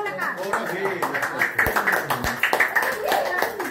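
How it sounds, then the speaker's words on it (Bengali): Family members clap rhythmically around a birthday cake cutting at home, with fast, uneven hand claps mixed with overlapping voices and chatter. "হাততালি দাও"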